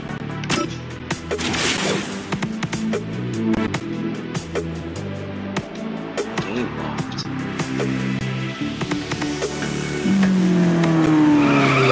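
Racing cars in the video game Asphalt Street Storm Racing, tires squealing and skidding over a steady engine roar, with a long sustained screech building near the end.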